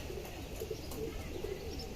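A homing pigeon at a house coos softly in repeated low murmurs with a few faint chirps, fairly quiet and close, with no talking.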